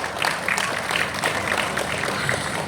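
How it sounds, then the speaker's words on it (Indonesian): Applause at a Seiko Indonesia limited edition watch launch ceremony, a brief, steady spatter of crowd clapping at moderate loudness throughout. "Kita berikan tepuk tangan."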